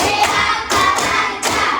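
Classroom group clapping in unison during an ice-breaking routine, a few bursts of rapid hand claps in quick succession, loud and close, with no talking.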